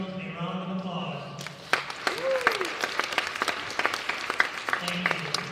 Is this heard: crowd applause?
yes